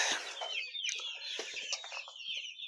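Chickens and young chicks clucking and cheeping together at a poultry seller's farm, a dense busy chorus of overlapping calls that keeps going throughout, fairly close and with no talking.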